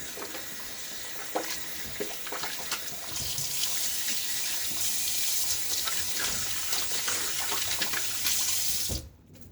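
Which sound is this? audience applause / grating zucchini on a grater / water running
water running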